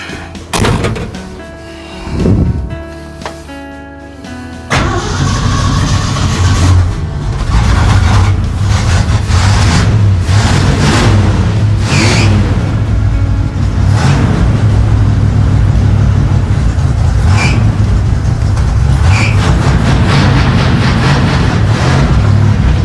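An old car runs with a leaking accelerator pump after a repair. A few knocks and thumps come first, then a loud, close engine roars into a steady run and keeps going with small rises in revs as the car moves.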